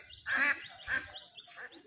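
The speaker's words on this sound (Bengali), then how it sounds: "এখানে হাঁসগুলো অনেক শব্দ করছে।" Ducks quacking beside a roadside wetland, a few loud raspy calls in quick bursts close by, fading into softer scattered calls.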